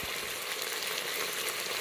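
Onions and carrots cooking down in a pot for an elk pot roast, giving a continuous close, dense sizzle and bubbling hiss with no talking.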